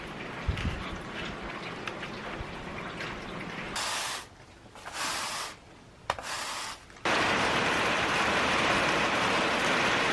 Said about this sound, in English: We got a pretty moderate rain coming in again.